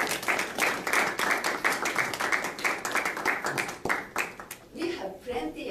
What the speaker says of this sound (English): Please give her another big applause.